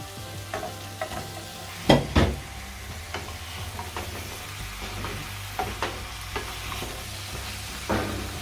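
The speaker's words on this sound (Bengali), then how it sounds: "মশলাটা কষানো হয়ে গেছে, এখন আমি মিষ্টি কুমড়োগুলো দিয়ে দিচ্ছি।" Sweet pumpkin pieces stirred into a sizzling spice paste in a pan, a steady frying hiss with irregular scraping and clacking from the spatula and a couple of louder knocks near the start.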